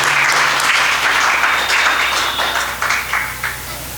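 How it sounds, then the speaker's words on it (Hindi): An assembly at an Arya Samaj gathering claps loudly to honour the chairman, a thick, continuous round of applause that thins slightly toward the end. "सम्माननीय अध्यक्ष जी का जोरदार तालियों द्वारा आप सम्मान करें"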